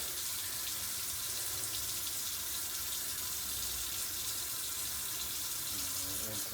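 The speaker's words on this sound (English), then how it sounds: "rinsing that off." Steady, loud rush of tap water running into a sink while hands are rinsed under it, a continuous hiss with no break throughout.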